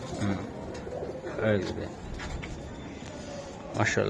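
Pigeons at a market stall, among Budapest, racer and Lahori Shirazi birds, give soft repeated coos near the microphone while people talk throughout.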